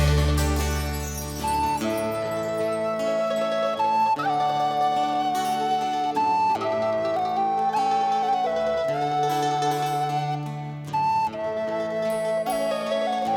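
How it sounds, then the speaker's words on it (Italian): A Sicilian ciaramedda bagpipe plays a Christmas tune, its reedy chanter melody weaving over a steady sustained drone, loud and continuous with brief breaths between phrases. "ciaramedda suona così"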